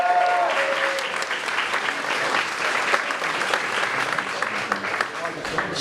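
A conference audience claps and cheers steadily, a dense wash of applause with voices shouting over it throughout.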